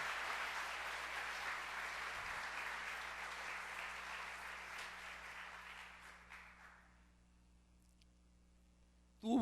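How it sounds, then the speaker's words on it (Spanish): A church congregation applauds during a Spanish-language Sunday sermon, steady dense clapping that carries on for several seconds and then tapers away into near silence before a short sound at the very end. "Pero aplauda también."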